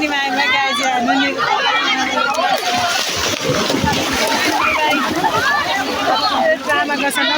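Water splashing and sloshing in a busy swimming pool, with children and adults of all ages in the water, is heard continuously under loud crowd chatter and shouting.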